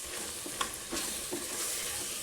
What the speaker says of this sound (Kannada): ಎಣ್ಣೆಗೆ ಫ್ರೈ ಮಾಡ್ಕೊಳ್ಳೋಣ ಫ್ರೆಂಡ್ಸ್.